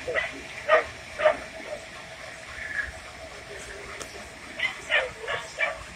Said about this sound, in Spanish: Sale el perrito mío.